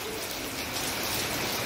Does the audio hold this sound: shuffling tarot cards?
no